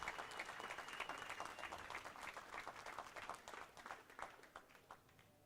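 Spectators at the World 10-Ball pool championship applaud the top four finishers, a crisp scattered-to-steady clapping from a hall crowd that gradually thins and fades toward the end.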